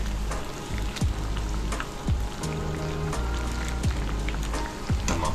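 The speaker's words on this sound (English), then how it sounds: "That oil is angry. It's popping." Hot oil crackles and pops steadily in a pan while frying fish, with sharp irregular pops standing out over a continuous sizzle, close and fairly loud.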